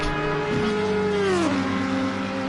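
Racing cars in a wet race at Suzuka in a racing video game, one engine note sweeping down as cars run in a slipstream, with steady loud engine drone throughout.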